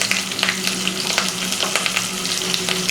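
Ground black pepper and coriander powder fry in oil in a pan for a beef and chana dal curry, a constant loud sizzle broken by quick spatula scrapes and clicks as they are stirred.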